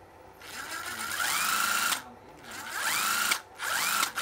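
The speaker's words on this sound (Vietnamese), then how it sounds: "là một con máy khoan bắt vít à, xích 12V" A 12V cordless drill driver runs in short bursts, its motor whining loud and close as it spins up and down, pausing between runs as it is switched between forward and reverse.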